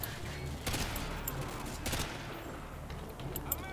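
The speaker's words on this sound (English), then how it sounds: "They're firing from somewhere." Gunfire in a video game, rapid bursts and scattered shots, fairly faint and distant, with a couple of louder cracks over a steady background.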